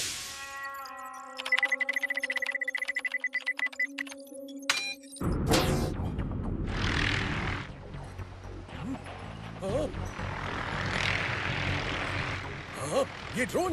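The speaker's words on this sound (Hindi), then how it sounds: "ये ड्रोन कहां से आ गया?" A drone flies by in an animated Hindi film set over Egypt's Suez Canal, a loud whooshing buzz sweeping in around the middle and staying up amid busy music and effects.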